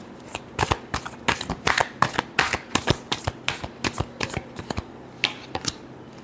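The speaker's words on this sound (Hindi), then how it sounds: "last shuffle" Tarot cards shuffled by hand produce a rapid series of crisp riffling snaps, close and fairly loud, over about six seconds.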